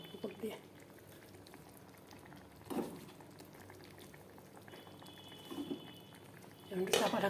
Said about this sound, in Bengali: মাছগুলো দিয়ে দিলাম, এখন একটু ঢেকে দেবো, ব্যাস এটা ফুটলে নামিয়ে ফেলবো।